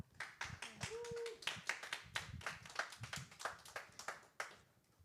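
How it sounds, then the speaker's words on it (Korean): A small church group applauds: steady, scattered hand clapping that carries on for several seconds at moderate distance, with no talking. "박수로 환영하겠습니다"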